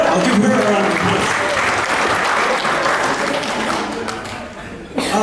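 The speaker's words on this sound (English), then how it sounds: "Give him a round of applause." Wedding guests applauding during a playful beauty contest put on by Samoan men, a dense burst of crowd clapping with some voices mixed in that slowly fades before a short final sound.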